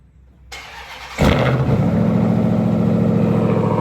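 Cold start of a Ram TRX pickup truck engine: the starter briefly churns, then the engine catches with a loud bark and settles into a steady, deep, rumbling idle, close and alone.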